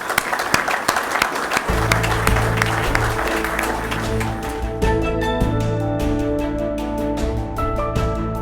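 Applause for award winners at a Paramount company event rises as a dense burst of clapping, then gives way after a couple of seconds to sustained music that carries on under fading claps.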